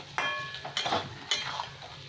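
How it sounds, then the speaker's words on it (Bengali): Boiled taro being stir-fried with masala in a pan, a few distinct scraping and clinking strokes of a spatula against the metal over a faint background sizzle, close and moderately quiet. "সবকটা ভালো করে কষিয়ে নেবো, মশলার সাথে ভেজে নেবো।"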